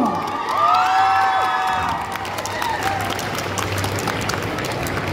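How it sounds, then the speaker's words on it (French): A live crowd at a Paris manga convention cosplay contest cheers, whoops and applauds for a contestant dressed as Arlecchino from Genshin Impact, loud at first and then settling into a continuing roar with scattered shouts. "On peut l'applaudir encore une fois"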